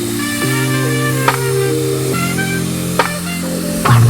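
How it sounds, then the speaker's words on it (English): A paint spray gun sprays Fusion Mineral paint in the colour Bayberry, unthinned, onto an old wooden dresser. It makes a steady, close hiss with brief breaks over soft background music. "this paint is thin enough that I didn't need to add any water before spraying"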